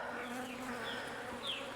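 Honey bees buzz around a beekeeper's dark jacket while honey supers are removed, a close, continuous droning hum with a few sharper passes.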